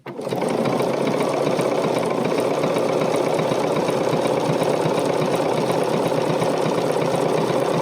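A Bernina sewing machine stitches over a thick jeans seam, giving a continuous, even, close-up mechanical whir at a fast, steady needle rhythm for the whole stretch.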